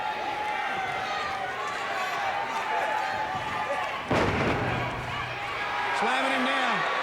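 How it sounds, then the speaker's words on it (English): A professional wrestler is slammed down onto the ring mat during a tag-team match, a single heavy thud cutting through a steady arena crowd roar and continuous play-by-play commentary. "Slamming him down."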